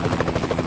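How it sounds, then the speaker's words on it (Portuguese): Rescue helicopter in American Truck Simulator, a brief rhythmic rotor chop, steady and moderately loud, with no talking. "Um helicóptero pra salvar o pessoal."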